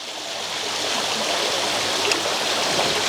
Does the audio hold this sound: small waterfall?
yes